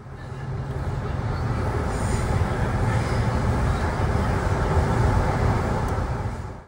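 Sydney Metro train accelerating through a tunnel toward the harbour crossing, a steady loud low rumble with rising wheel and motor roar throughout, no talk.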